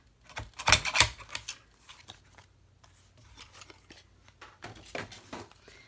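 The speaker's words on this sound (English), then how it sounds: "I'm going to bring in my guillotine here. Trim that off." A paper guillotine trimmer slices off the edge of cardstock for a handmade birthday card, a sharp close slide and cut near the start followed by quieter scraping and handling.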